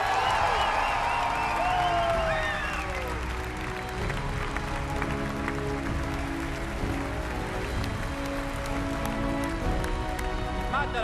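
Audience at an E3 game presentation applauding loudly and steadily, a dense roar of clapping from a large crowd that fills the whole stretch, with tonal music or whistles briefly riding on top early on.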